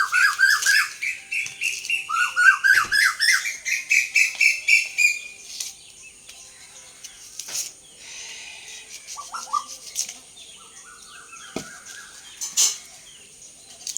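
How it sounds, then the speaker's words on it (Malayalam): A flock of birds calls from behind a small village house in rural Kerala: loud, rapid squawking and chirping in the first few seconds, then sparser, fainter tweets and calls, with no one talking. "ഈ വീഡിയോയ്ക്കകത്തെല്ലാം നമ്മുടെ കിളികളുടെ സൗണ്ട് ഒരുപാട് വരുന്നുണ്ട്"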